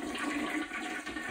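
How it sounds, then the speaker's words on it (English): A toilet with a toothbrush stuck in it is flushed to empty the water from the tank, giving a brief, loud rushing whoosh of water up close. "there's a bunch of water here in the back, so we're gonna flush this."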